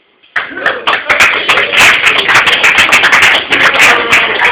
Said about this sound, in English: let me hear by round of applause where you guys are at